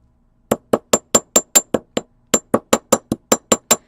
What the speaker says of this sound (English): I am actually using the edge of my hammer to really get in there and hammer that down.